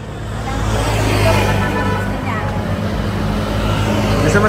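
Motorcycles on a road in Pinamalayan, Mindoro, Philippines roar past close by, a steady engine drone swelling and holding with road noise throughout.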